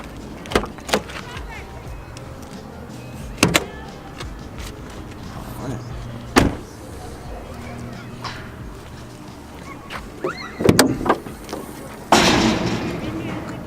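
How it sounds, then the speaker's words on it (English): A car hood is opened during a bumper cover check, with several sharp clicks and thuds from the latch and lid spaced out over the clip while someone talks between them. "So we're going to open the hood and go from there."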